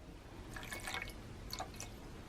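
Warm water, a quarter cup for an oil-free vegan salad dressing, dribbles and drips into a bowl in two short bursts, faint and close, with no talking.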